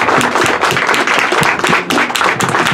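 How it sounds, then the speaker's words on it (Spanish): Conference audience at a university event applauding the presenters, dense loud clapping from many hands that carries on steadily throughout, with faint voices mixed in. "Les pido nuevamente un aplauso para quienes estuvieron acá presentando"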